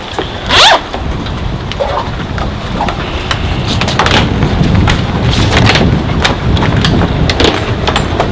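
Canvas boat cover pulled free of its snaps: a sharp snap-like pop near the start, then steady rustling and flapping of fabric with scattered small clicks, close and fairly loud, no talking.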